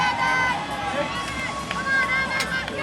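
A crowd cheers and shouts continuously in a large arena during a team competition, a dense roar with occasional louder yells and a voice over a public address system.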